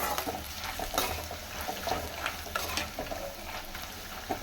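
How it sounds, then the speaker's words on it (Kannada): Puffed rice frying in oil in a pan, a continuous close sizzle with repeated scraping and tossing stirs of a spoon, fairly loud and steady, no voices. "ಚೆನ್ನಾಗಿ ಎಣ್ಣೆಯಲ್ಲಿ ಫ್ರೈ ಆಗಿದೆ"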